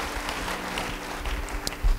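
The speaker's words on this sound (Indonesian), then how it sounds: "Beri tepuk tangan yang meriah bagi dia." A church congregation applauds during a sermon, a steady wash of many hands clapping at moderate, fairly even loudness that swells slightly near the end.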